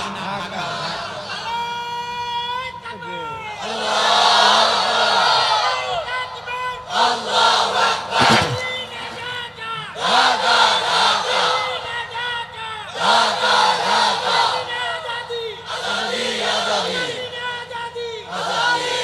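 A large crowd in Bangladesh chants the political slogan "Delhi na Dhaka" in loud, rhythmic, repeated bursts of many voices, with pauses between the waves of chanting.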